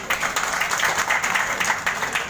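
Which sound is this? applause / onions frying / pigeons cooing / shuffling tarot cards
applause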